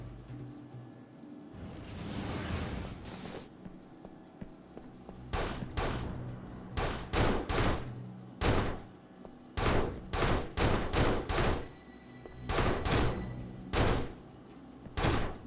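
Gunfire from the Xbox shooter Urban Chaos: Riot Response, with scattered shots early and then repeated loud bursts of rapid shots in clusters, over a steady game background.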